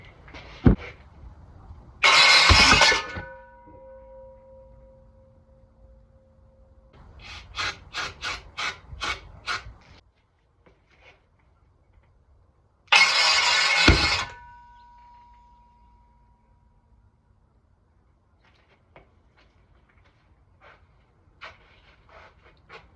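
Project truck engine cranking in bursts with sharp pops of backfire through the carburetor, separated by quiet pauses, with a brief loud whoosh near the start and another midway.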